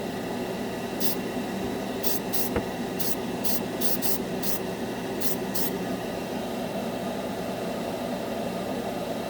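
Krylon chrome spray paint is sprayed onto a black spoon in a series of short hissing bursts, about eight quick sprays over a steady background hum.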